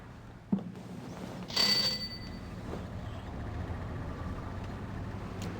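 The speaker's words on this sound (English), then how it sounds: "we gotta do the doorbell" A short doorbell rings once in the video game Gabriel Knight 2: The Beast Within, faint and brief, over quiet background hum, followed by a soft clunk.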